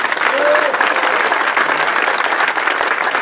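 A church congregation applauds in a dense, continuous wash of clapping that stays loud and even from start to finish, with a few voices calling out beneath it.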